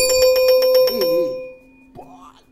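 A doorbell rings with about ten fast, bright repeated strikes that blur into a sustained ring, then fades out, followed by a brief clatter and a low rising tone near the end.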